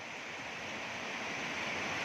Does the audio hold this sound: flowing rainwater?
yes